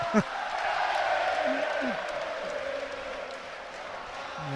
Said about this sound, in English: Falkirk fans singing loud and proud at the moment